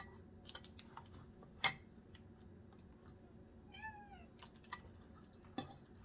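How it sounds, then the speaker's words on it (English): A house cat meows a few times in a quiet room during gift-wrapping, short rising and falling calls near the middle, with faint clicks and rustles around them. "What do you want, cat?"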